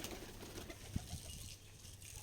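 A pet dove in a cage that has grown too small for it, on a hot afternoon: faint, low cooing with a brief louder flutter partway through, under steady ambient hiss and no talk.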